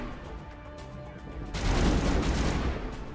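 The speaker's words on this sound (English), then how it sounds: "Can you stop shooting me?" Gunfire aimed at the player in Mass Effect, starting quiet and then bursting into a loud, dense fusillade of rapid shots that keeps going to the end.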